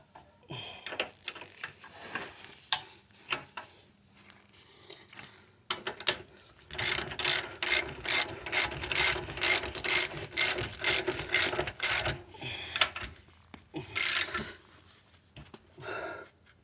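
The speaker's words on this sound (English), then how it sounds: "Tighten this trailing arm here." A ratchet tightens an 18 mm trailing arm bolt on a Mercedes GL450 X164 rear suspension, first with a few scattered clicks, then a rapid run of close, loud, evenly spaced ratcheting strokes, ending with a final short burst.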